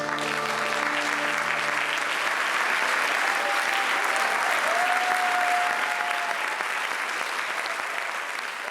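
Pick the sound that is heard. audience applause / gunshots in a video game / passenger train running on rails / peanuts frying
audience applause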